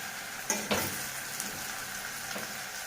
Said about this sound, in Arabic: بعد ما الفراخ خدت صدمه عشان المسام تقفل بديها لون